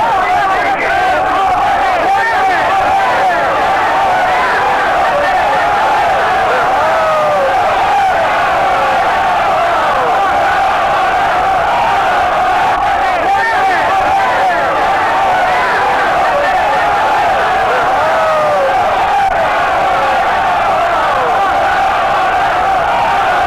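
A large rioting street crowd in 1969 roars and shouts continuously, a dense wash of many voices with occasional louder yells rising out of the din, heard at a distance and sustained throughout.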